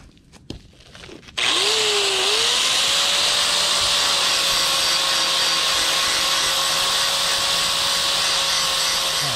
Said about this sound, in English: you want to grind just the surface here about this much